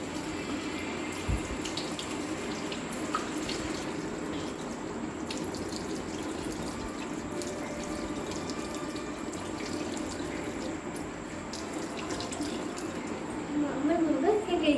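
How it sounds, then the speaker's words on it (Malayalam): Tap water runs steadily from a faucet while someone washes their face at a sink during a night routine, a continuous close stream with louder splashing near the end. "ഫ്രഷായിട്ട് മുഖം കഴുകാം."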